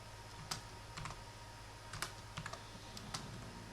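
Quiet typing on a computer keyboard, with scattered clusters of crisp key clicks separated by short pauses and no talk.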